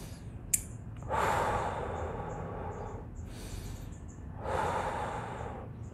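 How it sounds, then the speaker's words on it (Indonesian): Two long, soft breaths drawn in through the nose and let out through the mouth, close and steady with a pause between, practised for circular breathing on the saluang bamboo flute. "silahkan tarik nafas dari hidung terlebih dahulu dan keluarkan lewat mulut"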